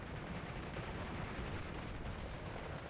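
Tank gun fire during an armored battle in the Steel Division WWII strategy game, with an M5 gun among the weapons; it comes through as dense, continuous low rumble and crackle of combat, steady and loud, with no distinct separated shots.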